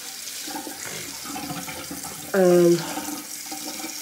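Water runs from a sink faucet for washing the face, a faint, steady trickle under a person talking, with a brief louder tonal swell partway through.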